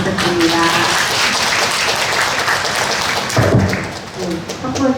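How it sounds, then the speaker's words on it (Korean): A roomful of parents at a volunteer training session claps for a lecturer, a loud thick burst that swells, then thins and tapers near the end, with some voices mixed in. "오늘 알찬 강의를 해주신 곽선현 선생님께 다시 한번 큰 박수 부탁드립니다."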